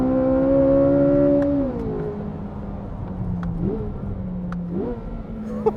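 A Chevrolet Corvette supercar engine screams at high revs on a race track, sustained and loud with falling shifts partway through, then climbing again, with no talk over it.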